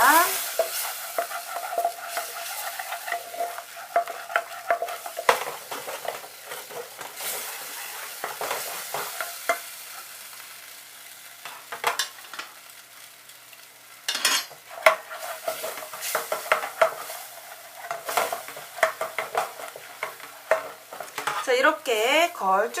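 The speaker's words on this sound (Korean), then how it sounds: "이렇게 스톡을 조금 조금씩 넣으면서 약간 물 상태가 되면 그때 우유 넣어주시면 됩니다" Sauce for a Mornay is stirred in a pan while stock is added bit by bit, giving continuous scraping and swishing of a spoon against metal with soft sizzling, close and steady throughout.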